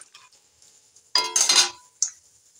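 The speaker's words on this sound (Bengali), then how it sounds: "বাদামটা ভাজা হয়ে গেছে, তুলে নিই।" Fried peanuts are stirred and lifted from a pan, giving a few metallic scrapes and clinks: one louder rattling burst in the middle and a brief clink after it, with near silence between.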